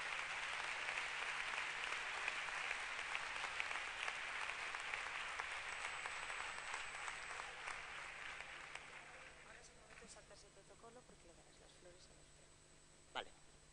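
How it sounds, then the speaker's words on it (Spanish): An audience at an awards and closing ceremony breaks into loud, sustained applause that gradually thins and fades out, with talk faintly mixed in and a single sharp knock near the end. "os pido un aplauso para los austriacos."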